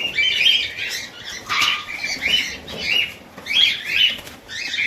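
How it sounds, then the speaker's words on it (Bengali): Repeated bursts of pigeon wings flapping, close by, with soft cooing and squawks between the flurries. "চব্বিশ ঘন্টা এখানে পায়রা সব ছাড়াই থাকে দেখো কত সুন্দর পায়রা"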